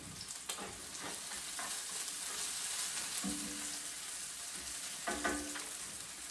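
Scallops fry in a hot pan for fried rice, a steady, close sizzling hiss with intermittent scraping and clinking of a utensil, no voices heard.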